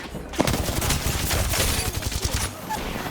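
Rapid gunfire in the shooter video game Apex Legends, a dense continuous burst of shots lasting a few seconds, loud and close with game noise around it.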